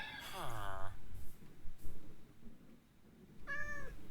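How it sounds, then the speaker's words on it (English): A cat in a video game meows twice: a long, drawn-out call at the start and a shorter, higher one near the end, with muffled game sounds and a voice in between. "And the cat reappears at the moment that I don't have time to deal with it."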